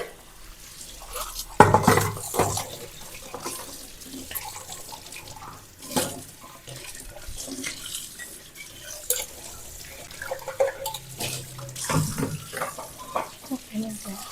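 Running tap water splashes into a sink while moringa (malunggay) leaves are rinsed, with a steady flow broken by clatters and handling knocks, and a voice talks intermittently nearby.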